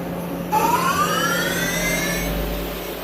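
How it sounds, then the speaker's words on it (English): The sub spindle of a 2017 Samsung SL 2500BSY lathe spinning up toward 500 RPM, a quiet rising whine that climbs smoothly in pitch over a low steady hum, then levels off. "Sub spindle on the SL 2500 BSY, 500 RPM."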